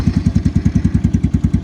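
A motorcycle engine on a cold start with the choke pulled, loud and close, running in a steady, rapid, even putter with no talk over it.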